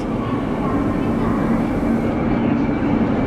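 Chinese passenger train pulling into a station, a steady loud rolling rumble with a faint tonal hum throughout, fairly close.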